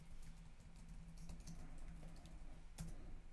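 Soft computer keyboard typing as a search is entered, a quiet patter of keystrokes over a low steady hum, with one sharper tap near the end and no talking.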